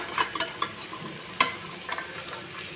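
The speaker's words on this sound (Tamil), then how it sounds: "இப்போ கோஸை கொட்டிக்கலாம்" Chopped cabbage, about a kilo, sizzles and crackles in a hot pan for a Tamil-style stir-fried poriyal, with scraping stirs and a sharper clatter partway through; steady, close and moderately quiet with no talking.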